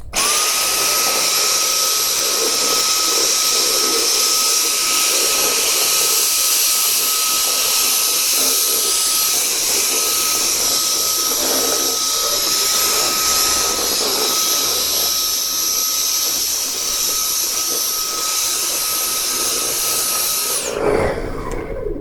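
A Dyson V10 cordless vacuum cleaner's brush motor spins with a loud, steady high-pitched whine for about twenty seconds, then cuts off abruptly near the end.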